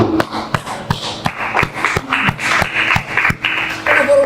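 Individual claps and taps from an audience at a political discussion forum, sharp separate strikes in a loose, uneven rhythm, growing into denser clapping toward the end.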